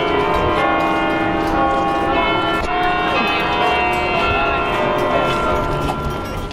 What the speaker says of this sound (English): We were lucky enough to catch the bell toll.